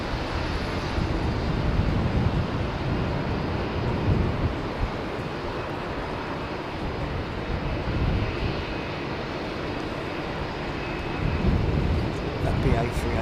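An Airbus A380 jet airliner at Heathrow, a loud, continuous low-heavy engine roar that swells and eases in broad waves throughout, close and dominant.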